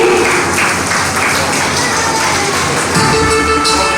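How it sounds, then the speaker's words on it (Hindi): An audience at a school Mother's Day celebration claps continuously, a loud, even wash of applause that fills the room without a break. "तालियां बजा दीजिए उनके लिए।"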